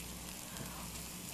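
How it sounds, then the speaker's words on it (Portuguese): Onion sizzling in olive oil in a pan, a steady, even frying hiss that fills the whole short moment at moderate level with no talk over it. "cebola fritando é tudo."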